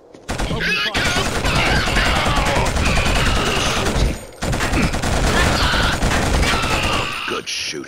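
Gunfire in the PS3 shooter Killzone HD comes as dense, continuous bursts of automatic weapons fire with explosive crashes, broken by a brief pause midway.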